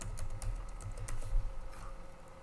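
Quick close keystrokes on a computer keyboard as a command is entered, a light irregular patter of soft clicks with no voice over it.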